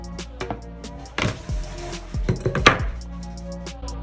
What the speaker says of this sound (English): we're going to chop up 2 medium-sized onions